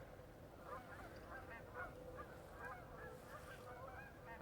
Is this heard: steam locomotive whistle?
no